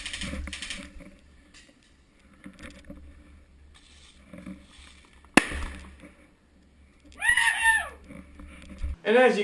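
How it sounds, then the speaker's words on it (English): A Thunder-B sound grenade goes off during an airsoft game with one sharp, loud pop partway through, amid outdoor rustling, with people shouting and voices rising soon after. "So that is the Thunder Bee sound grenade."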